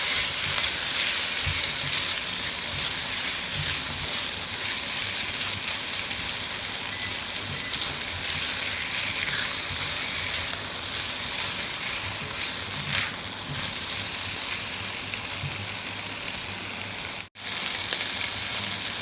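Pork belly stir-frying in a pan for braised pork belly with lotus root, giving a steady loud sizzle with faint stirring scrapes that continues unbroken, no voices over it.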